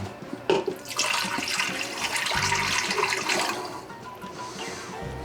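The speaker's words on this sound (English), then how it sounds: "Then we have that 7 cups of water, but we don't want to add it all. We only want to add a couple of cups." Water poured from a container into an Instant Pot holding potatoes and salt, a steady close splashing pour lasting a few seconds and then tapering off.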